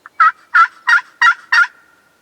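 A wild turkey gobbles five times in a steady rhythm, each call a loud, rattling burst standing alone against silence, close by.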